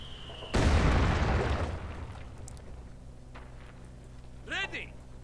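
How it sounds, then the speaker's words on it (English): A building collapses in Company of Heroes 2, crushing a grenadier squad inside: a sudden loud crashing rumble that decays over about two seconds, followed by quieter battle noise and a brief chirping call. "Building collapsing, killing a grenadier squad inside."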